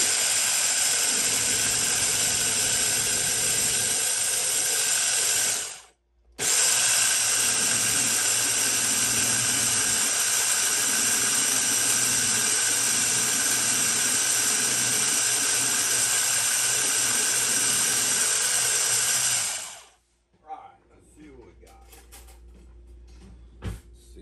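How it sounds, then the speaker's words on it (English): A small blender full of shrimp po boy ingredients runs with a loud, steady whirring hiss. It cuts out briefly near the six-second mark, then runs again until it stops at about twenty seconds, leaving quiet clatter. "Now we're just going to blend it up."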